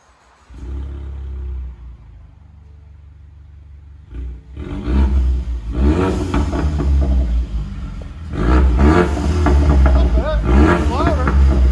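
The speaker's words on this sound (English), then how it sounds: "We cut them all off, because we hate mufflers here, like I always say. I'll let you guys hear it in a second." A 2016 Ford Mustang EcoBoost turbo with straight-pipe dual exhaust and X-pipe, no mufflers, idles with a deep rumble, then revs repeatedly in loud throaty bursts close by.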